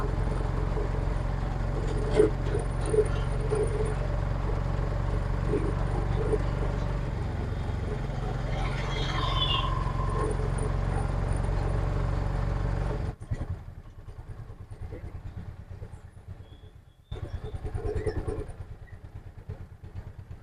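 Piaggio Ape BS6 auto rickshaw with a five-speed gearbox, its engine running steadily and loud for about thirteen seconds, then dropping to a quieter idle with a brief rise near the end while someone talks.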